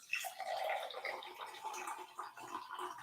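Warm water poured into a bowl to dissolve yeast for low-carb bread, a steady, soft splashing and gurgling stream running for a few seconds, close and fairly quiet.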